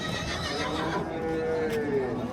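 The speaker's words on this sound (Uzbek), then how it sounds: "Otlar." A horse neighs at a livestock market, a drawn-out whinny rising above the crowd's chatter, with people talking throughout.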